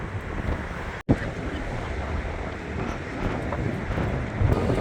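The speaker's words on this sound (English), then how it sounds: "It is cold and windy." Strong, cold wind buffets the microphone in a steady, loud roar on an early-morning street beside Southern Cross Station in Melbourne, Australia, with a brief dropout early on and gusts swelling toward the end.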